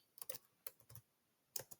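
Fingers tap a computer keyboard in small irregular clusters of quick, crisp keystrokes, close and quiet, with short pauses between bursts.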